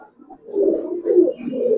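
Giribaz pigeons, silver Sabchila Pankhi birds, cooing close by in three soft, throaty swells that rise and fall without pause; no talk.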